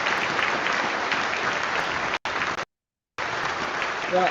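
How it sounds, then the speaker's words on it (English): Sustained applause from a crowd at a Mandela Day celebration event, a dense, even roar of clapping. It cuts out briefly twice with full silence before resuming at similar loudness. "Let's give her a round of applause."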